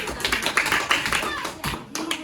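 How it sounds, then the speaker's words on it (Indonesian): Children in a classroom clap together, a short burst of close, uneven hand claps with a teacher's voice over them. "Kasih tepuk tangan dulu"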